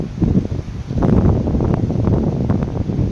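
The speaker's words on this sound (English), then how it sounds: "Ooh, this wind is getting strong." Strong wind gusting through trees at a homeless camp, a loud continuous rushing roar with buffeting against the microphone and faint rustling throughout.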